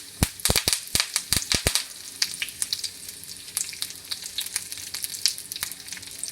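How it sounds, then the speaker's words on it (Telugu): Red chillies and curry leaves dropped into hot oil with mustard and cumin seeds, setting off a burst of loud, sharp crackles and spits that settle into a sustained, close sizzle with scattered pops. "మస్టర్డ్ సీడ్స్, క్యూమన్ సీడ్స్ ఇవన్నీ వేగిపోయాయి కదా. రెడ్ చిల్లీస్, కొంచెం కర్రీ లీవ్స్ వేస్తున్నాను."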